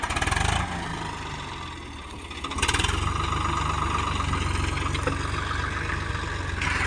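A Swaraj 855 tractor engine runs with a steady, throbbing mechanical chug. It dips briefly and then picks back up to a strong, even rumble that carries through to the end, with no voices.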